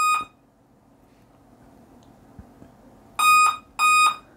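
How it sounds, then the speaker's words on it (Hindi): A Dell laptop that powers on with no display gives a short electronic beep, then a long quiet gap, then two more loud, steady beeps close together, each lasting about a third of a second. "यहाँ पे देखिए आपको बीप साउंड सुनने को मिल रहा है।"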